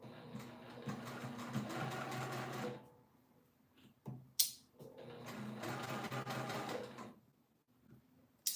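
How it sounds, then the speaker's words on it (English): A sewing machine stitches fabric in two bursts of rapid, even mechanical clatter, each lasting a few seconds, separated by a quiet pause with a small click. "I want you to see the sewing."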